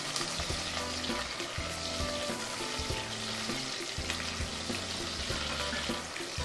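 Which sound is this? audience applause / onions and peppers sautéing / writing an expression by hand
onions and peppers sautéing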